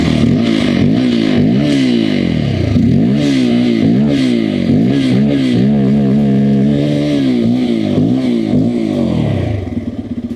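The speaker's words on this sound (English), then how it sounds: "So that was the exhaust note of the Pulsar N250" Close and loud, a Bajaj Pulsar N250's engine is revved repeatedly, its exhaust note climbing and falling in quick throttle blips over a steady idle, with no talking.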